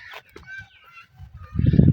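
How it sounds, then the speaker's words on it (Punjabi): Domestic rooster and hens, with soft clucks and a rooster call amid low rustling, swelling into a louder burst of fowl noise at the end. "ਦੇਸੀ ਮੁਰਗਾ ਕਾਫੀ ਮੁਰਗੀਆਂ ਹੋਣੀਆਂ"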